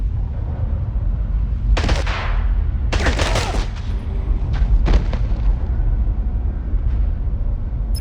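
Gunfire in the James Bond 007 Blood Stone video game comes as several loud, sharp bursts over a constant rumbling game background, with a short rapid volley near the middle.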